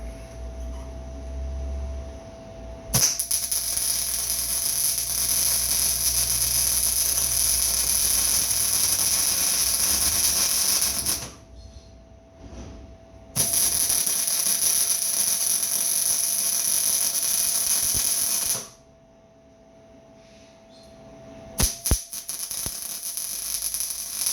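An angle grinder grinds off welds on a V press in a workshop. It comes in two long, loud, steady bursts of several seconds each, with a short quieter pause between them and near-silence at the end.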